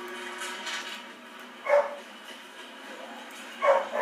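Dogs in the Call of Duty Ghosts video game give two short, separate yips or barks over a steady game ambience, moderately loud and spaced a couple of seconds apart.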